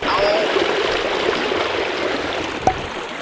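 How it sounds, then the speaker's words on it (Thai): Cold river water rushing steadily over rapids, a continuous broadband roar up close with a brief splash near the end. "น้ำมันเย็นมากด้วยแหละ ใช่ มันคือน้ำแม่น้ำไง"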